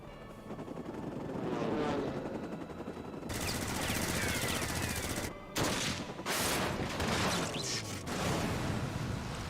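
Sustained bursts of gunfire from a Final Fantasy XIV battle, loud and near, with sharp cracks and rumbling explosions layered over a dense background din for several seconds.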